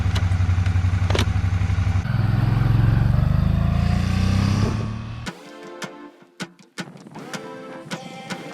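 A motorcycle being ridden, its engine droning loud and steady, then rising in pitch, before the sound drops away to clattering, knocking noises.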